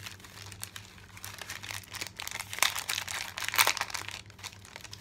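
Decorated birthday gift wrapping paper crinkling and tearing as a present is unwrapped, with steady close rustling and a couple of sharper crunchy rips, heard alone without talk.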